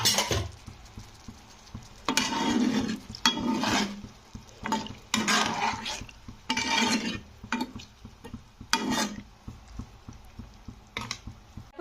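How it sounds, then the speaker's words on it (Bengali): Egg curry gravy bubbling in a pan, with intermittent bursts of sizzling and stirring-like scrapes recurring in uneven pulses at close range. "ঝোলটা কিন্তু ফুটে গেছে।"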